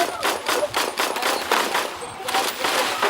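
Rapid bursts of sniper and automatic gunfire in the Roblox shooter Phantom Forces, a steady string of sharp shots across the clip with a faint voice mixed in.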